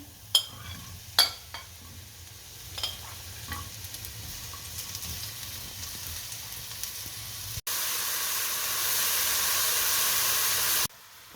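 Mushrooms sizzling in a pan with a few sharp clinks early on, then a loud, steady hissing fry that cuts off abruptly.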